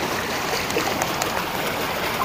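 Flowing water feature in Msheireb Downtown, Doha, giving a steady broadband rush and trickle with no speech, close and continuous throughout.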